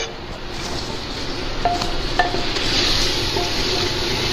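Chopped ginger and green chili fry in a pan for poodina pulao, a steady close sizzle with a few light clinks of a utensil against the metal.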